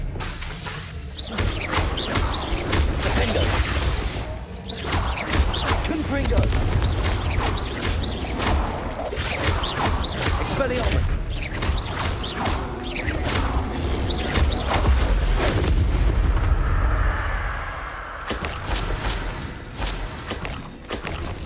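A Harry Potter video game spell battle fills the air with repeated bursts, crashes, whooshes and booming explosions in a busy, loud, irregular stream, with no voices heard.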